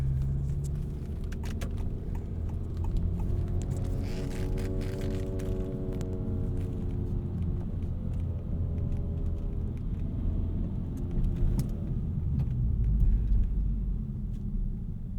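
A turbocharged 2024 Honda Civic Si drives at night, with steady road rumble and engine drone under a faint rising and falling whine, continuous and close, without talking.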